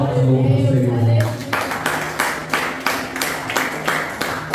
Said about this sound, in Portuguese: Que as palmas louvam o Senhor